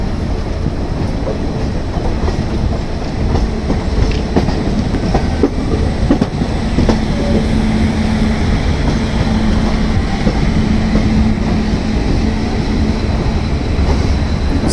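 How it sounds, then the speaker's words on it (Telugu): Gowthami Express rolling slowly into platform 5 at Secunderabad Junction, with a loud, continuous rumble and rhythmic wheel clatter and a brief high squeal midway. No voices. "ఇక 5th ప్లాట్ఫామ్ మీదకి మన ట్రైన్ ఎంటర్ కానుంది"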